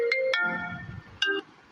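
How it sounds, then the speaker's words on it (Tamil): Mobile phone ringtone playing a short bright electronic melody of a few tones, clear and close, with no voices over it. "ஆஹா, ஃபோன் அடிக்குது."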